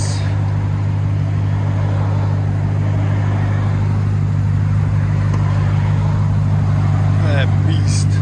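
A 2022 RAM TRX with true dual 3-inch straight-piped exhaust gives a loud, deep, continuous engine rumble that holds steady and close, with only slight swells.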